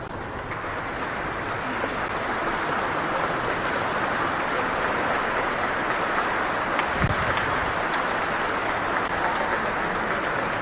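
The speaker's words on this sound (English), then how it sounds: "And you could see Manjuma Jogati and Vikram, who was applauding proudly from the audience in that little video clip." Audience applause at a Padma Shri award ceremony, a dense steady wash of clapping lasting throughout, loud and continuous without pauses.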